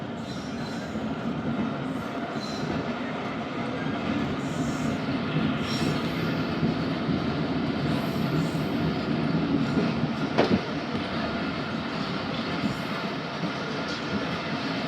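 The Khyber Mail passenger train rolls along the rails after leaving Shujabad railway station in the evening, with a continuous rumble, rhythmic wheel clatter and faint squeals, one brief sharp clank near the middle.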